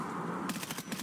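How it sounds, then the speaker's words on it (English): A short, rapid burst of automatic gunfire rattles out in the shooter game Escape from Tarkov, about half a dozen quick shots at moderate volume over a steady background. "Somebody's shooting behind us."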